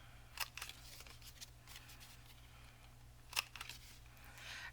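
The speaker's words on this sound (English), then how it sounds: "I think I'm going to cut the corners first." Scissors snipping the corners of a paper bellyband bookmark, two distinct close crisp cuts a few seconds apart with faint paper rustling and handling in between over a low background hum.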